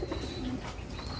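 Caged racing pigeons coo softly in a low, continuous murmur, faint and close, with no talking over it.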